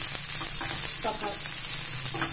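Green and red chillies frying over low heat with bell peppers and other vegetables for restaurant-style veg manchurian, giving a steady, dense sizzle with faint stirring, close and continuous.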